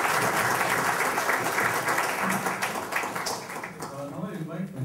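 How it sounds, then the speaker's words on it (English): An audience at a panel discussion on employability and skilling at ISB gives the panelists a loud round of applause that fades after a few seconds as a voice begins speaking. "all the panelists deserve another round of applause."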